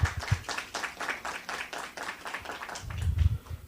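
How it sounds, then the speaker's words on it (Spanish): An audience at a university seminar applauds to welcome a speaker, a brief run of quick, fairly faint hand claps with a low thump near the end. "Recibámosla por favor con un fuerte aplauso."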